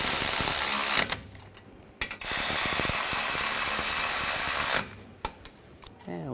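A ratchet tightens the brake caliper bolts on the front hub of a 2007-2013 BMW 328i. It makes a loud, close, buzzing mechanical rattle in sustained bursts, with short pauses between runs and a few sharp clicks near the end.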